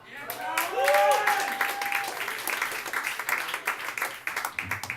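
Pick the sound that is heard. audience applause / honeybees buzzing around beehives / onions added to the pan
audience applause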